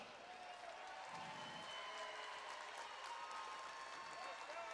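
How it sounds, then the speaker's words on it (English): Audience at an amateur fight event, Klint Harvey vs. Brandon McDowell, applauding both fighters, a steady, distant wash of clapping and crowd noise with a faint tonal hum running through. "I want you to give a round of applause to both these guys."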